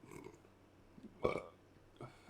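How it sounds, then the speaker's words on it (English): A single short, throaty burp stands out at moderate loudness amid quiet room sounds, with faint noises before and after. "That was a burp."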